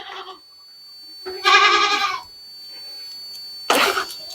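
A goat lets out two loud, wavering bleats close by, separated by a quiet pause, with a short cry at the very start.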